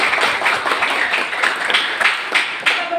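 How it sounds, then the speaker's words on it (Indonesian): An eighth-grade class at a junior high school claps together indoors, a brisk run of uneven hand claps with a few louder accents, close and fairly loud. "coba kita dulu tepuk tangan semuanya"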